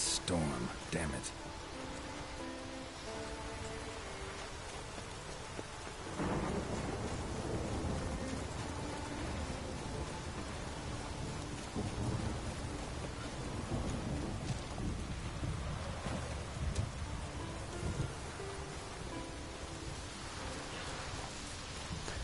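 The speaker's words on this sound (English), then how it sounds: "The storm, damn it." Thunderstorm in The Witcher 3, with steady rain and rolling thunder rumbling through the whole stretch, layered with game music and ambience.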